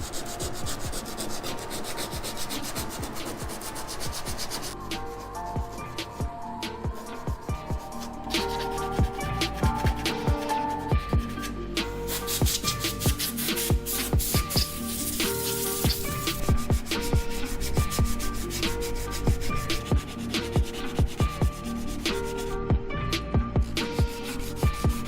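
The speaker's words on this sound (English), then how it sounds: "kind of feather back these areas here with some 80 grit sandpaper" A Nissan 350Z body panel is sanded by hand with 80 grit sandpaper, giving continuous raspy back-and-forth scraping strokes, close and steady, growing slightly louder partway through.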